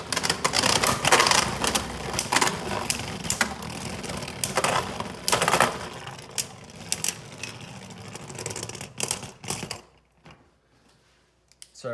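Beyblade tops spin and clash in a stadium, a dense rapid clatter of plastic knocks and scrapes that thins out into a few scattered hits before stopping, close and loud with no talking.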